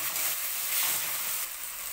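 Garlic, peas, tomato and onion sizzle in hot oil in a wok for fried rice, a bright, steady hiss of frying close up with no one talking.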